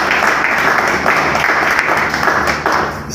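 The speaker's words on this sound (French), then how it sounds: "Je voudrais qu'on l'accueille aussi avec des applaudissements." A conference audience claps to welcome a speaker, a dense, even burst of applause heard close and loud, tapering slightly toward the end.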